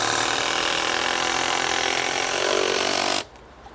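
A Hikoki hydraulic impact driver drives a 5 inch screw at full power, a steady, close, continuous whirring hammer that runs for about three seconds, then cuts off abruptly into near silence.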